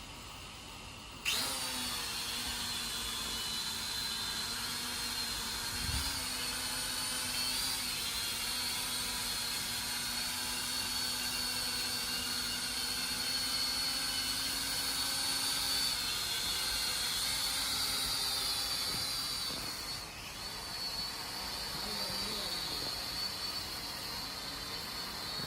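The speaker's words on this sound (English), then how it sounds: "So right now let's literally go and fly out this mini drone" A mini 1080P camera drone flies close by, its rotors giving a steady high-pitched whine and buzz that starts abruptly, holds nearly constant for over twenty seconds, and wavers briefly near the end as it maneuvers.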